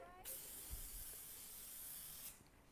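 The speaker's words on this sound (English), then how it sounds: "Bit of cooking spray." Cooking spray hisses into a wok in one loud, sustained burst lasting about two seconds, then stops abruptly.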